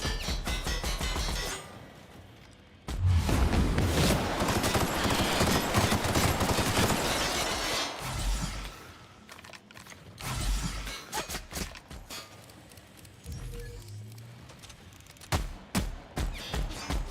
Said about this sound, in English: Fucking turrets, man.